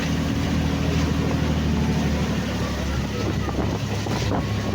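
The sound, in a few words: strong waves and wind heard from a boat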